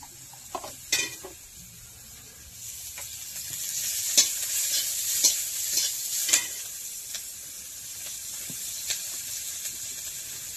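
Shrimp fry in a pan with onion and chili in a village kitchen, a constant hissing sizzle broken by sharp stirring scrapes and clacks of a spatula, close and moderately loud, with no speech.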